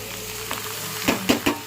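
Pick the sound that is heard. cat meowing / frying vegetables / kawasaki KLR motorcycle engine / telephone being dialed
frying vegetables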